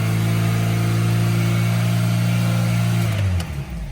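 A car engine on a cold start, revving high and holding a loud, steady, droning tone for about three seconds before dropping back, with no talking.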